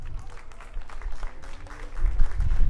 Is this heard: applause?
yes